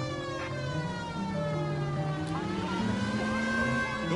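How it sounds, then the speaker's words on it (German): A police siren in the video game L.A. Noire wails steadily in a rising and falling tone over a car engine's hum, continuous and fairly prominent. "weil es jetzt sein muss, muss die Sirene an"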